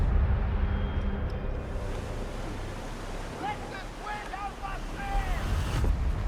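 Sailing ship cutting through open ocean waves in the pirate game Skull and Bones, with a steady roar of wind and surf throughout and a few faint higher tones drifting over the wash.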